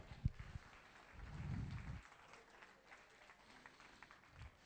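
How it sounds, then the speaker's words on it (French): Audience at an evangelical church gathering gives a brief burst of faint, distant applause that swells for about a second and then fades into room noise. "Applaudissez Jésus-Christ."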